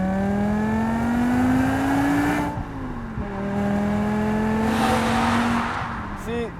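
V10 BMW M5 sedan engine wound out toward the red line, a loud climbing wail through a gear, a quick drop at the shift, then another rising pull before easing off.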